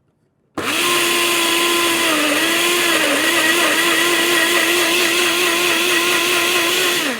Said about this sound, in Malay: Lepas tu kita blend